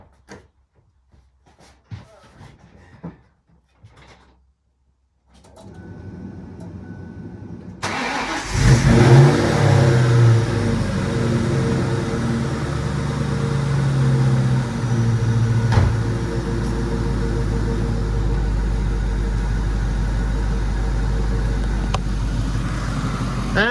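After a few quiet clicks and shuffles, the V8 engine of a cheap Cobra replica car cranks and fires, then settles into a loud, rumbling idle with occasional revs that continues to the end.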